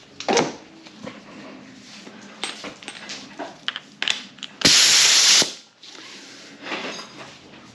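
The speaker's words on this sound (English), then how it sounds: "air chisel time." An air chisel works on a VW 02S six-speed gearbox during disassembly, firing one loud harsh blast of just under a second amid scattered clanks and handling noises.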